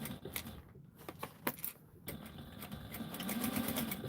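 A home sewing machine stitching a seam until its bobbin runs out, faint rapid mechanical clatter with a few sharp ticks and pauses, then a steadier whirring run near the end.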